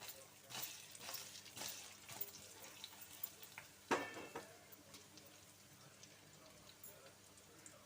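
Gram flour stuffed green chillies fry in a pan with a faint, steady sizzle and occasional clinks of a spoon turning them, including one sharper metallic tap; no speech.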